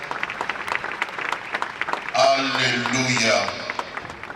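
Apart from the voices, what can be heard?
congregation applauding for the Lord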